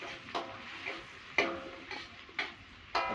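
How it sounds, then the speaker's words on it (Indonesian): A utensil stirs chili and spices in a frying pan, giving sharp clinks and scrapes against the pan every half second or so over a soft, steady sizzle. "kalau itu sudah semua kita aduk-aduk ya"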